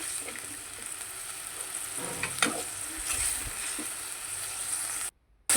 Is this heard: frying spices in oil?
yes